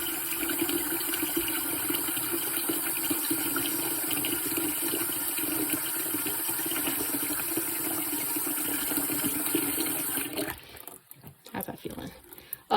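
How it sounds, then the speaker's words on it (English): Cold tap water pours steadily into a basin used for washing yarn, a continuous hissing stream that stops abruptly near the end, followed by a few small splashes and handling noises. "I might want to put some cold water in there"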